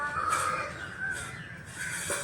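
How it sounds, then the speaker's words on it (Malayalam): A few harsh caws from a crow, three drawn-out calls in a row at moderate distance, against a quiet background. "അവിടെ എന്തോന്നിരിക്കണത് കാക്ക ഇരിക്കണ"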